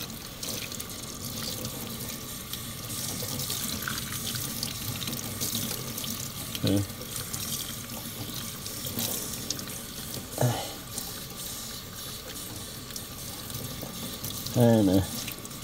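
Lukewarm tap water runs steadily into a sink while permanent blue hair dye is rinsed out of hair, a continuous close hiss with a few brief splashes and knocks.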